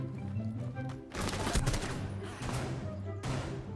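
Rapid gunfire from the Rainbow Six Siege video game, a continuous stream of sharp shots with brief breaks, fairly quiet and steady throughout.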